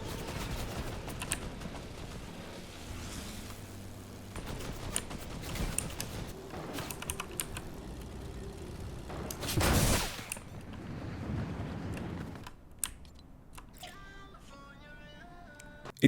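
Gunfire from snipers and aerial dogfights in a flight simulator game comes as dense bursts of shots and crackling fusillades, with a loud blast near the middle before the sound thins into sparse electronic tones.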